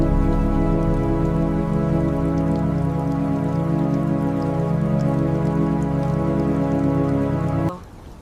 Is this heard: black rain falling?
yes